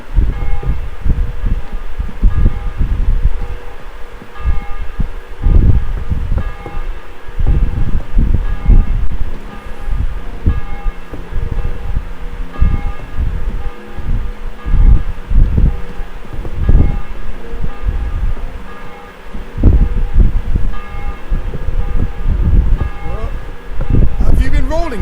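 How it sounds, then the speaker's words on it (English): Repeated tolling of a church bell in the medieval video game Kingdom Come: Deliverance 2, heavy strokes ringing out over wind and rustling ambience at a steady, uneven pace. "Bell's ringing for HANS the 5th time."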